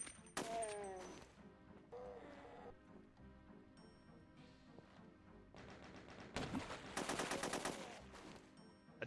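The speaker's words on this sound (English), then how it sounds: "now this assault rifle sounds too quiet" Assault rifle firing in the game Resurrection of Dawn 3.0, short bursts of rapid, thin shots that sound quiet and dinky, with a long dense burst near the end and quieter clicks between.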